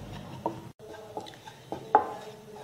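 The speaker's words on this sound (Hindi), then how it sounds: "सबसे पहले कढ़ाई में हम एक चम्मच बेसन डालेंगे। इसे हमें सूखा ही भूनना है।" Gram flour dry-roasted without oil in a kadai, with a few separate close taps and scrapes of a spoon against the pan and a quiet background.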